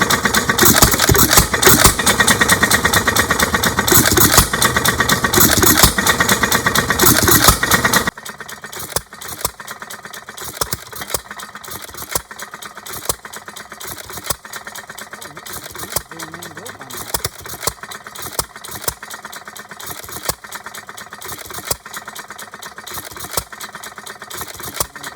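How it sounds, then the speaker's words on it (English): An antique hit-and-miss engine with a belt pulley chugs away, its firing beats loud and dense at first, then it coasts more quietly with irregular intermittent pops as it slows and fires again; someone talks over it. "and then when it slows down, that's when it fires again to speed back up."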